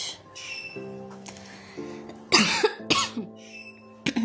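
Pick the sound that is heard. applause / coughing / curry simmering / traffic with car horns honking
coughing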